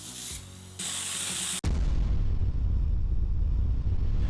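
Aerosol matte varnish sprayed onto Warhammer miniatures, close hissing bursts at the start that then give way to a steady, louder broadband rush of spray or wind noise.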